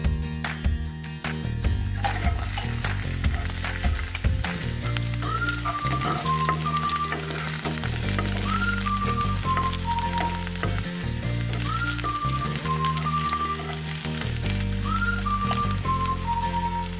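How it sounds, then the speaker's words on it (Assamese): Steady oil sizzle of onions frying in a pan, continuous throughout, mixed with loud background music. "পিঁয়াজ কেইডোখৰ ৰঙা হোৱালৈকে ভাজিম"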